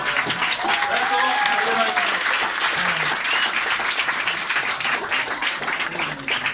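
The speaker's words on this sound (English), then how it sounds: "Give him a big round of applause." Sustained audience applause fills a comedy bar after a stand-up set, dense and steady throughout, with crowd noise and faint voices mixed into the clapping.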